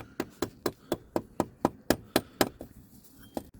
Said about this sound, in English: Just have to switch to rubber hammer mallet here